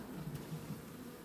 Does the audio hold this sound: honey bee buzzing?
yes